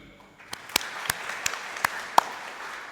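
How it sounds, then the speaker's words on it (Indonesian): A church congregation at a Sunday evening service gives scattered, fairly distinct claps, about six or seven spaced hits rather than dense, full applause. "Kita beri aplaus dulu"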